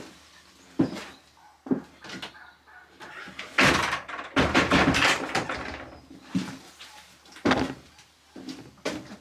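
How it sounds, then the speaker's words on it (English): Door being closed: a series of sharp knocks, clatters and bumps spread irregularly through the clip, fairly close and loud, with no talking. "Let me just close that door."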